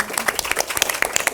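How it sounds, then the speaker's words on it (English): Brief burst of audience applause for a conference panel, scattered close claps ringing out over a short moment. "Let's give them another round of applause."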